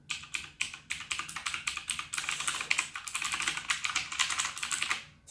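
A Blackweb mechanical gaming keyboard gives a fast, irregular stream of crisp key clicks close by, like steady typing, with a short pause at the end.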